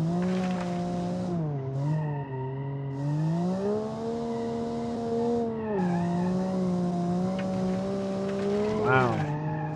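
A car in a racing video game drives a handling circuit, its engine holding a steady droning whine that rises and falls with gear changes, tires squealing through the corners, continuous and close.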